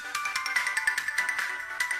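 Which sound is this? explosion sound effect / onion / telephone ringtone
telephone ringtone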